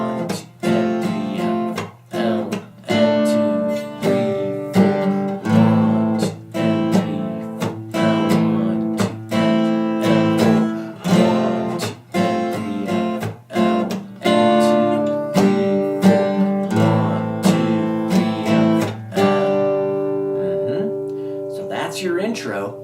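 An acoustic guitar slowly strums the chords of a song's intro, each strum ringing out clearly, close and fairly loud, with no talking.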